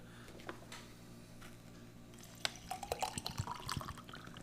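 Citrus drink powder from a Belarus survival ration being mixed into water, quiet liquid swishing at first, then a run of light clinks and taps of a spoon against the container, close and faint with no talk.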